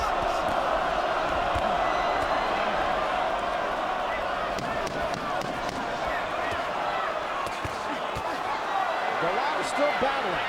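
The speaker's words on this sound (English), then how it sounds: "And pretty mixed reaction from the crowd." A boxing crowd at a heavyweight fight keeps up a dense, steady roar of voices and shouts, with sharp thuds and slaps scattered through the din.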